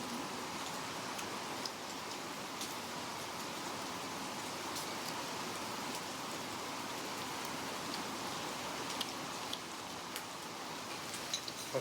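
Continuous rainfall, a steady diffuse hiss with occasional sharper drips and ticks standing out close by, lasting throughout with no talking.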